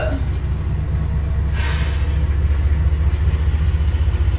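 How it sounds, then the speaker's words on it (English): A train passing nearby makes a heavy, low rumble with rhythmic pulsing that grows steadily louder, while a person talks over it. "Oh my gosh, the train is coming!"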